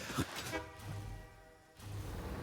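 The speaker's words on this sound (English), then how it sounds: "I ordered the train over here and it's honking like crazy" A train in the factory-building video game Satisfactory sounds its horn: one sustained, tonal blast of about a second rises out of quieter background noise, with some clanking before and after.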